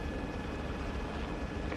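A hovering helicopter in the military game ARMA 3 gives off a continuous, close rotor and engine drone that stays steady and loud throughout, with no speech.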